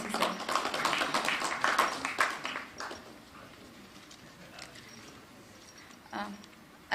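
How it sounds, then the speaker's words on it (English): Audience applause in a university hall at a live event on nation building, a dense burst of clapping for the first three seconds that fades out, followed by quiet room tone and a few scattered claps. "I would also like to give a big round of applause to Rajendra Kesi"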